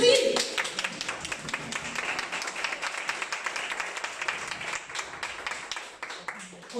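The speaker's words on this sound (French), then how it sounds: "on l'applaudit" Applause from an awards ceremony audience, the Yana Pépites 2021 prize-giving, steady dense clapping throughout at moderate level that fades slightly toward the end.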